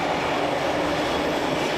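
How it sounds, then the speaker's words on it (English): A fast, modern local commuter train runs into a city centre with a steady, loud rolling rumble and broadband rail noise, close and unbroken, with no voices. "I took the fast, modern local train service into the city centre."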